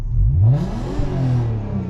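A Volkswagen Golf MK5 R32 with an Akrapovic exhaust revs hard while parked on a residential street, the engine climbing and falling in a loud, close, continuous rasp with no talking.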